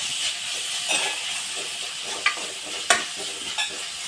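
Steady sizzle of onions and curry leaves sautéing in a pan for Tamil fish curry, with a few sharper stirring scrapes and clinks over the continuous frying hiss, close and without talk.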